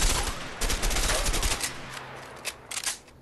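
Rapid bursts of gunfire from the co-op prison-escape video game A Way Out, dense and loud at the start, then thinning into scattered shots with a low steady hum underneath.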